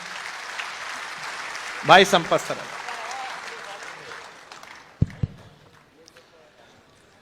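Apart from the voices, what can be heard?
audience applause welcoming a poet on stage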